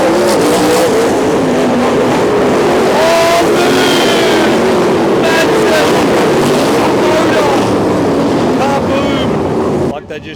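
Sprint car engines screaming around the track during a Grand Annual Sprint Car Classic race, a loud, continuous whine with rising and falling pitch as cars pass in close succession, overlaid by crowd noise and wind.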